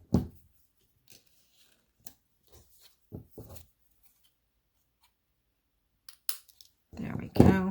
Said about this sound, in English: I better go ahead and cut these off, put it off to the side.